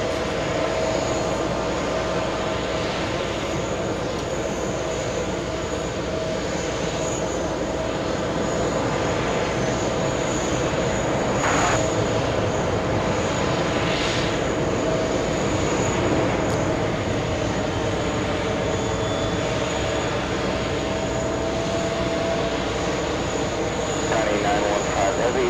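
A Boeing 747 idles on a taxiway at JFK airport, its jet engines producing a steady loud rumble and whine throughout, with faint tonal hum layered in and no clear speech.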